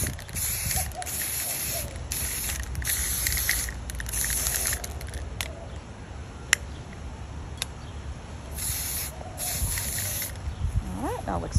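Colorshot wine stain spray paint hisses from an aerosol can onto a wine glass in several long, close bursts separated by short pauses, with quieter handling noises between them.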